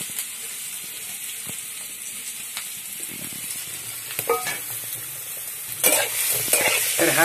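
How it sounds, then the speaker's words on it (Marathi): Chopped onion frying in about two spoons of oil in a kadhai wok, a steady soft sizzle with scattered stirring scrapes that grow louder and busier toward the end, no talking. "लगेच आता कांदा त्यामध्ये टाकून तळून घ्यायचा आहे"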